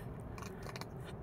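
Nutria on a farm crunching fish pellets, faint quick crisp crunches over a low background rumble, close and without talk.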